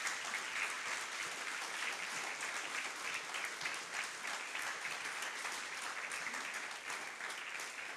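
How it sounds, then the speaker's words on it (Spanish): Sustained applause from a church congregation, steady and full throughout, with no talking. "Dale un fuerte aplauso al Señor entonces."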